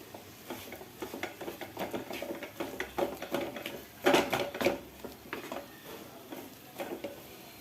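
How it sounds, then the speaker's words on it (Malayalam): Mashed banana dough and grated coconut are worked together in a bowl, producing soft, close squelching and scraping strokes in an uneven rhythm, faint overall with a few louder knocks. No voices are heard. "3/4 ബൗൾ തേങ്ങ ചിരവിയതും ചേർത്ത് കൊടുത്ത് നല്ലപോലെ ഒന്ന് മിക്സ് ചെയ്ത് കൊടുക്കുക"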